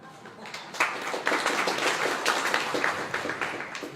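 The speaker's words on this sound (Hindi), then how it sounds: "आप लोगों ने ताली बजा दी" An audience claps during a monk's sermon, a dense, steady spatter of many hands lasting several seconds, fairly close and loud, with a voice faintly present underneath.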